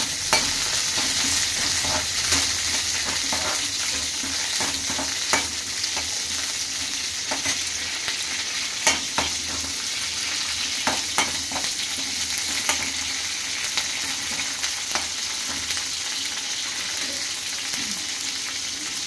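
Peanuts, coconut and green chillies frying in a pan for a pachadi, giving a steady, close sizzle with occasional stirring clinks and scrapes throughout, with no talking.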